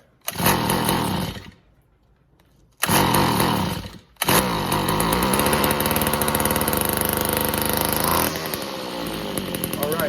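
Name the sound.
Tanaka weedeater engine running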